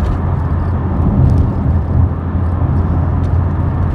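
Mk2 Vauxhall Cavalier 1.8i GLSi pulling out to overtake, a steady loud engine drone and road rumble from inside the cabin that swells slightly mid-pass, with no talk.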